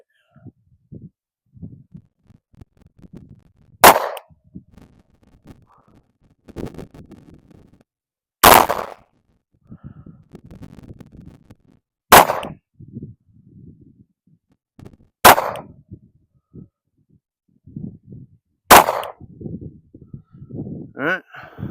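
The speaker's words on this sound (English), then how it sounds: "just gonna take a few shots here at 7 yards" Five sharp, loud HK VP9X pistol shots fired at 7 yards on a range, spaced a few seconds apart, with quiet rustling and handling noise between them.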